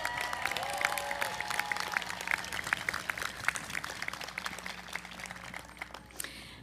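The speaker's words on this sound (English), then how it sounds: "So please, let's offer a round of applause to all those who helped." A crowd applauds at a school of education and counseling ceremony, with scattered individual claps pattering through a sustained, fairly soft roomful of clapping that continues evenly.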